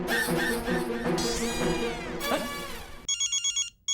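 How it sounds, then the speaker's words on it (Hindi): An electronic phone ring bursts in after a loud, clattering musical passage, chirping in short repeated pulses before cutting off. "बबीता का फोन"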